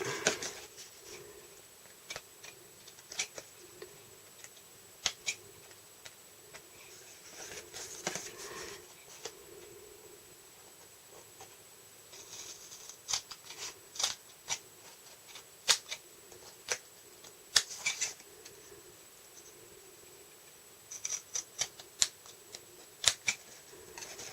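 Scissors cut out paper for a tiered interactive cake mini album, sharp irregular snips and crisp paper rustles coming in clusters close by over a quiet room.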